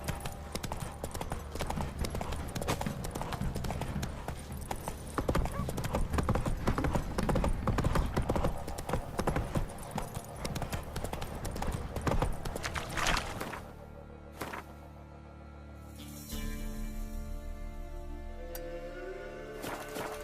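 Rapid clip-clop of a horse galloping in The Witcher 3, with a dense, steady hoofbeat rhythm that breaks off abruptly, followed by quieter ambient game sounds and brief music.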